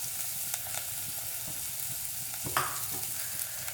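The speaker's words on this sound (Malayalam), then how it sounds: "ഇതിൻ്റെ കൂടെ തന്നെ വെളുത്തുള്ളി ചതച്ചതിട്ട് കൊടുക്കാം" Crushed garlic sizzles in hot oil in a pan for pepper rasam, a continuous close hiss with a few light utensil taps and one brief louder flare, no voices.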